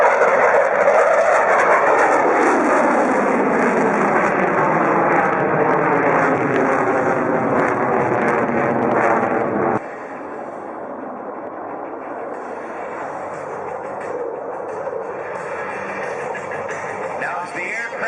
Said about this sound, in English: as the aircraft approaches from the left, they'll set up for what is known as the minimum radius turn